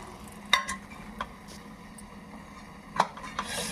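Cucumber coriander chutney stirred in a pan on the stove, two sharp metallic clanks of a spoon against the pan over a faint steady sizzle, with softer scraping between, close and quiet.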